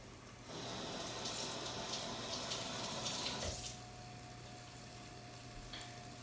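Fresh basil rinsed under a running kitchen tap, a steady soft rush of water that begins abruptly, holds for about three seconds, then drops to a quieter trickle.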